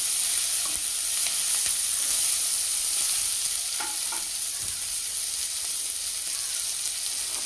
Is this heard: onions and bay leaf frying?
yes